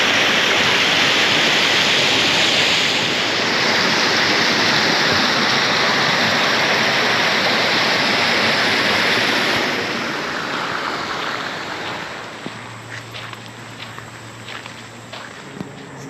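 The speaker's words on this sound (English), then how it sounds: "look at the volume of water coming out of there." Water pours out in volume at Swan Lake park, a loud broad roaring rush that fills most of the clip before fading, leaving quieter outdoor ambience with footsteps and faint handling sounds toward the end.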